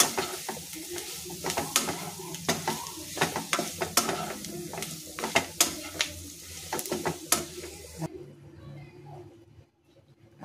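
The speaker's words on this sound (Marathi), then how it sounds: "आता हे सगळं एकत्र करून घेऊया" A spoon stirs and mixes vada pav filling in a hot pan, with a run of quick, irregular scrapes and clacks over a faint sizzle, then a sudden quieter stretch near the end.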